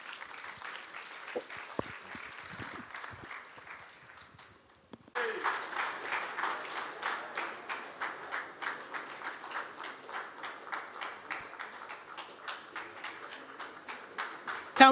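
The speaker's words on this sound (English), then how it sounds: "Can we keep the applause going until he gets here?" Sustained audience applause at a Nigerian political dialogue event after a closing speech, steady clapping from a large crowd that swells strongly from mid-clip onward, preceded by softer, scattered clapping.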